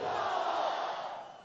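Crowd at an outdoor political rally in Murree chanting a slogan in unison, a brief loud roar of many voices that fades out at the end.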